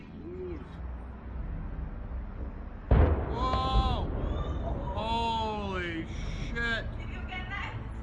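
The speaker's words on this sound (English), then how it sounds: "The first 2 explosions occurred within 30 seconds of each other" A huge blast at a Tianjin port container storage station lands as a sudden loud boom near the middle, its low rumble rolling on afterward beneath excited voices talking and shouting.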